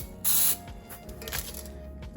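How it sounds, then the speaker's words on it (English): One short hissing burst of non-stick cooking spray into a cake pan, close and fairly loud, lasting about a quarter second amid quiet kitchen sounds. "so I am just gonna spray a little non-stick spray in that one little area"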